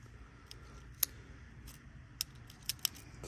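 Dirty PCV valve from a 2006 Scion xB being shaken, giving a few sharp, faint metallic clicks as its spring snaps back, spaced irregularly over a low background hum.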